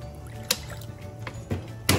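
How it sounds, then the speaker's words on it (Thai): Rice-washing water goes into a pot of Thai-Lao fish soup with vegetables, heard as a few brief, separate splashes and drips against a quiet kitchen background. "ใส่น้ำล้างโคกเข้าไป"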